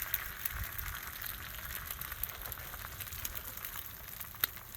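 Taylor ham sizzles on a Blackstone griddle, producing a faint, steady crackle with light scattered pops and no talking over it.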